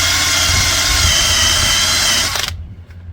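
A power drill fitted with an eraser wheel grinds old pinstripes off car paint, giving a loud, steady high-pitched whir close by that winds down and stops near the end.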